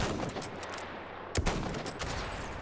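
One sharp sniper rifle crack cuts through the muffled battlefield ambience of Battlefield 1 on PS4 Pro, a single loud report about halfway through.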